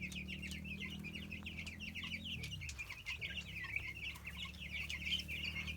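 A flock of 78 young chicks clucks and peeps continuously in a chicken tractor outdoors, soft chirps overlapping at a steady, busy rhythm while a low engine-like hum fades partway through.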